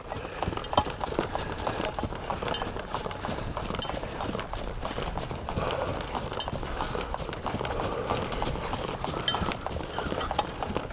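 Hooves of a horse loping in an arena clip-clop steadily under a continuous busy noise bed, with faint voices in the background.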